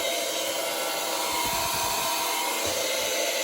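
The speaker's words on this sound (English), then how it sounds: "Liberty transfer pump sounds like this" A Liberty water transfer pump, likely run empty, gives a steady, droning motor whine with a harsh, rattling edge, running continuously and fairly close, with no voices.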